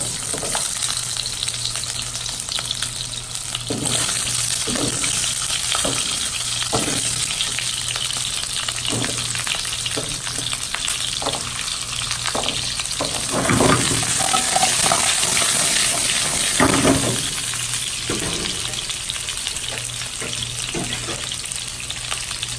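Carrots fry in oil in a hot pan while being stirred, with a steady loud sizzle and repeated scraping stir strokes for the whole stretch and no talk.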